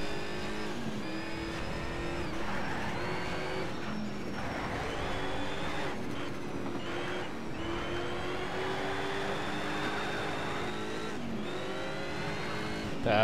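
Race cars pulling away from the start in the game Need for Speed Shift, loud continuous engine roar rising through gear changes with revving and passing cars.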